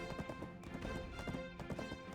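Horse hooves clip-clopping in a video game as the horse travels a twisty, curvy cliffside path, a steady quiet rhythm of hoofbeats with no talk over it.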